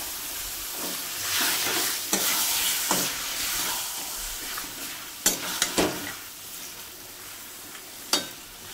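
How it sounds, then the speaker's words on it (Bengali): Goat meat being sautéed with spice paste in a pan, giving a steady low sizzle broken by several sharp clinks and scrapes of a spoon against the pan, close by with no talking. "এখন মাংসটা দিয়ে দিব, কারণ মাংসের সাথে মশলাটা অনেকক্ষণ কষানো হবে।"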